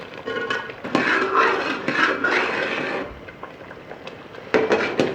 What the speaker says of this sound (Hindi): चम्मच हमने मुसलसल हिलाते रहना है, चम्मच को छोड़ना नहीं है।